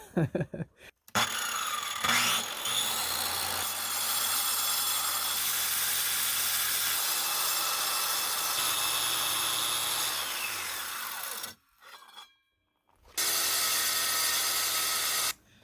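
Loud continuous whine and grind of a portable circular saw cutting through a granite countertop, sustained for about ten seconds, then a short pause before the cut resumes.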